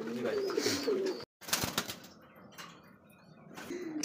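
Pigeons coo softly close by while wings flap in short bursts, with a brief gap and scattered rustling movement between the calls.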